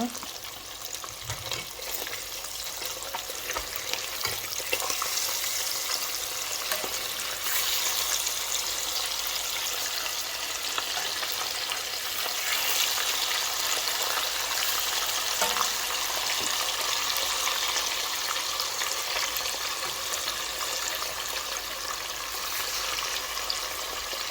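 Ilish fish with taro root frying in a pan as the pieces are turned, a steady close sizzle that goes on throughout with no talk.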